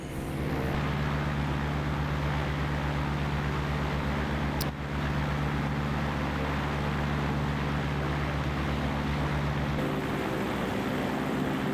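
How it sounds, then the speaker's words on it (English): The engine of a Camair 480, a 1940s light twin aircraft, drones steadily in a flight simulator game, a loud constant low hum with a brief click midway and no talking. "I genuinely love the engine sounds on this aircraft."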